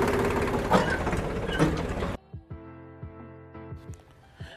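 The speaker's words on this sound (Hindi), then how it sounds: "इसकी जो एक्सटर्नल सर्किट लीवर है उसके मदद से इस उपकरण को पलटा रहे हैं" A tractor engine idling and clanking while its lever flips an MB reversible plough, a loud mechanical rumble that drops into quieter idling with a few knocks and clunks.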